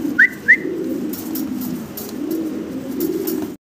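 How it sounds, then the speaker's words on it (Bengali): Fancy pigeons, including a blue-and-white bird, coo in low, repeated rolling pulses close by, with two brief higher chirps early on and no talking. "এখানে আরো চমৎকার 2 পিস কবুতর আছে"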